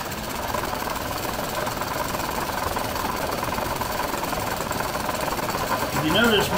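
A sewing machine stitches the strap of a sling bag, running in a steady, fast rattling chatter up close for the whole stretch, with a brief shift in tone near the end.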